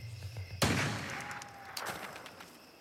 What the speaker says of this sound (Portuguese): É tiro de ajuste.